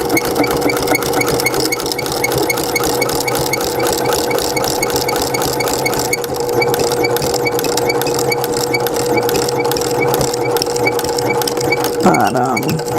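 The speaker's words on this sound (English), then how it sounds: "I'm going to back stitch right here." A sewing machine back-stitching while a coupon wallet is sewn, its fast steady needle hum running loud and close throughout, with a faint voice briefly underneath.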